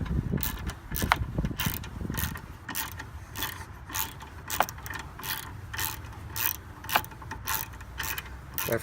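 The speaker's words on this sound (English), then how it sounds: "You can see I'm just using a small ratchet." A small quarter-inch drive ratchet turns in rapid clicking bursts, close and steady throughout, while removing bumper fasteners on a 2010 Toyota Prius.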